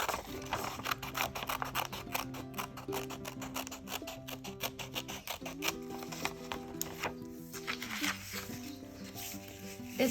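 Scissors cutting through paper during a children's name art craft, a series of short crisp snips and rasping cuts repeating at close range under quiet background music.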